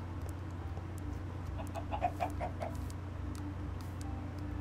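Short run of clucks from a Minecraft chicken, fairly close, around the midpoint, sitting over a constant low droning game ambience, no speech.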